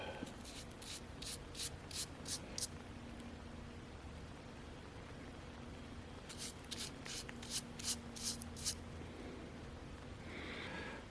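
A brush spreads old varnish onto wood during a repair, making soft rhythmic swishing strokes close by, in two quick bursts of repeated scrubbing separated by a quieter stretch over a faint background hum.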